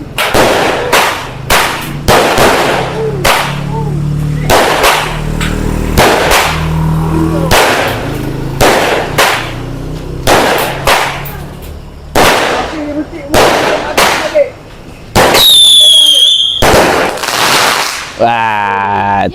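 A 16-shot fireworks cake going off during Hari Raya celebrations, loud close bursts in a rapid irregular series with brief whistling tails, people talking and exclaiming between shots.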